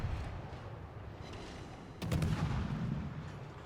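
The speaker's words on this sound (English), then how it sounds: "Look at these guns in action." Naval guns firing in a warship video game, a muffled booming salvo about two seconds in over a steady low rumble of ship and battle ambience.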